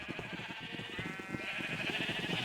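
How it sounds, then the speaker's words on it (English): Sheep bleat repeatedly in Minecraft, a quick run of close, insistent cries that keeps going through the whole stretch over a steady background. "Okay, so hopefully you can hear me over the sheep."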